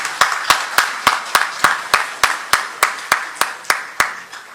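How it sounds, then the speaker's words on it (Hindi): Sharp, evenly spaced claps ring out about every third of a second, roughly fifteen in a row, loud and close, with a faint background of other hands behind them at a comedy poetry gathering. "एक बार जोरदार तालियां बजनी चाहिए"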